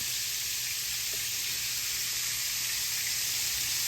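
Shrimp sautéing in a pan for a Cajun creamy penne pasta, a steady, even sizzle and hiss of frying that runs unbroken and fairly close, with no talking over it.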